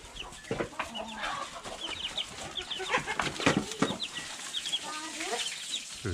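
Backyard laying hens cluck and squawk in repeated short bursts, fairly close, with rustling and occasional wing movement in an outdoor coop setting.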